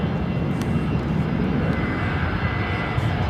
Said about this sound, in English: Qantas 61 heading off to Tokyo Narita on the right-hand side